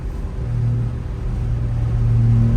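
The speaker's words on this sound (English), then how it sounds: "I need new exhaust. Stay tuned on that, cause the exhaust sounds shitty" A steady low engine rumble from a moving BMW E92 335is with a worn exhaust, continuous and fairly loud, with a droning exhaust tone that swells slightly toward the end.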